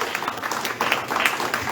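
Brief congregational applause for the Lord at a church service, a dense patter of many hands clapping at moderate loudness for under two seconds.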